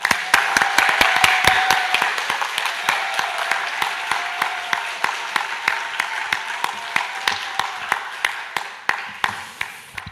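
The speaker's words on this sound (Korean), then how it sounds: "박수로 환영하겠습니다" Church seminar audience welcoming a pastor with applause that begins as a dense burst, then settles into slower, sharp rhythmic unison claps that continue for ten seconds, moderately close.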